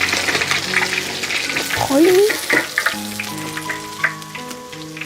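Fish fries in hot oil in a wok, a dense crackling sizzle running throughout, with brief stirring and scraping noises and a short spoken word near the end.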